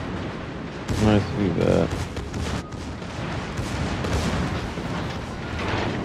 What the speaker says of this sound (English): My secondaries are shooting at that Miyoko a little bit